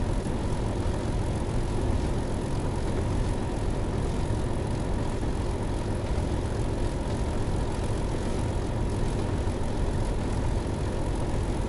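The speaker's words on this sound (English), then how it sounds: "Yeah, the idling sounds really good." Diesel engine of a Class 150 train idling in the video game Train Sim World 5, a steady, even low drone with a dense rumbling texture, constant and unbroken, heard alone without any talk.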